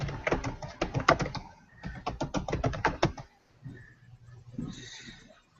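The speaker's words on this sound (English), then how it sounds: "I'm a typing." Rapid clicking from typing on a computer keyboard comes in two quick bursts, followed by quieter faint sounds in the room.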